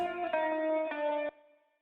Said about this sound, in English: We'll also add convolverb reverb to the loop to give it a sense of space, using the plate preset